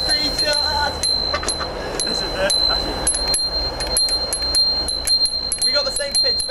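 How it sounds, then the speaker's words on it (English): Two bicycle bells of the same make ring repeatedly at a similar high pitch, with short bright dings throughout and people chatting over them. "Same make of Bell, too. Not surprising it's a similar pitch."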